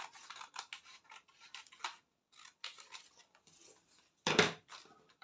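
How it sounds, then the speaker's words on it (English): Scissors snip through fabric while cutting out darts for a corset, a run of quick close cuts with short pauses and a sharper, louder snip near the end. "I'll just go ahead and cut off what I have here, like this, and then cut out these darts."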